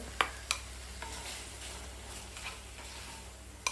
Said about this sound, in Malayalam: നന്നായിട്ട് മിക്സ് ചെയ്യുക മസാലയായിട്ട്